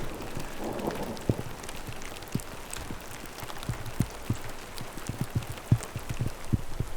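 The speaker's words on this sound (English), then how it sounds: "she's really coming down, hail and everything" Heavy rain and hail come down in Ecuador, a steady wash of rainfall punctuated by scattered sharp taps of hailstones striking a surface, fairly close and continuous.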